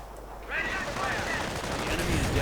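Dense crackling machine-gun fire and rattling small-arms shots aimed at engineers in a WWII strategy video game, sustained and loud, with whistling tones layered in.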